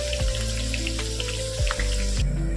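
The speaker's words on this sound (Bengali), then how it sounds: "তো আলুটা ভাজা হতে থাক" Potato pieces frying in oil in a pan for a mutton curry, a steady close crackling sizzle with hot-oil hiss running throughout, plus a few low thuds of the pan or utensils.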